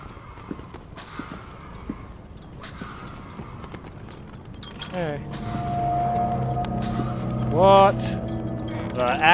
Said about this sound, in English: Transmission car engine